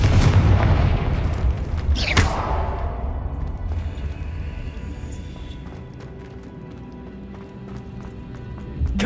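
Repeated Confringo explosion spells fired in Hogwarts Legacy, a sharp burst near two seconds amid continuous low rumbling game sound, with galloping-like thuds and scattered impacts running throughout.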